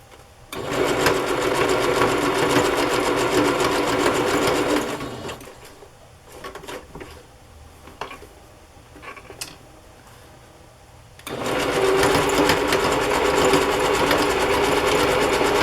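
A sewing machine stitches a burlap fabric pocket in two long, steady whirring runs, close and loud. A quieter pause between them holds a few handling clicks and taps.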